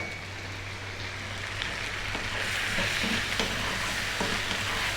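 Chili powder and turmeric fry in a pan as the base of a vegan sweet potato curry, giving a steady, close sizzle with soft stirring scrapes throughout.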